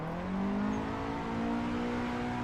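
Drift car engine in the Assetto Corsa racing game, a sustained high revving drone held near the limiter with a slight pitch rise, steady and fairly loud with no talk.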